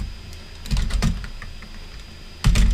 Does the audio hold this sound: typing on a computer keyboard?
yes